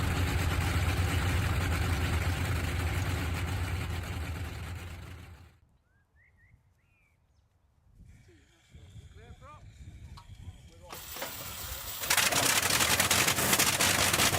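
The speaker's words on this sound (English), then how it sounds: "This iconic 14-cylinder Radial engine, once powering famous aircraft of World War II" A Bristol Hercules 14-cylinder radial aircraft engine, the World War II type, runs at a gliding club demonstration: a loud, steady roar that drops out to near quiet in the middle, then returns and swells hard and full again at the end.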